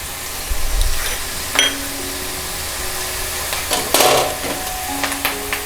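Garlic, onion and turmeric added to hot oil with fried fenugreek seeds in a pan, sizzling loudly and continuously up close, broken by a few sharp clatters and stirring bursts.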